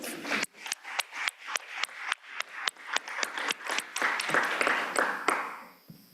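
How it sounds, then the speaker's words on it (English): Hands clapping in a quick, steady rhythm, several crisp claps each second, over a low room murmur. "So let's give us a round of applause."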